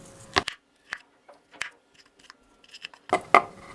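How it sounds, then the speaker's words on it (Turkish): A knife slicing 100 grams of salami thinly on a board, sparse crisp cuts and taps in irregular bursts, close and alone. "Patateslerden sonra 100 gram salamı ince ince dilimliyorum."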